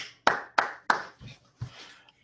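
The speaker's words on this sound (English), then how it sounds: "Virtual applause." A handful of sharp hand claps, about five in quick succession, each with a short decay. They form virtual applause at the close of an online talk and sound close and fairly loud, with no voices.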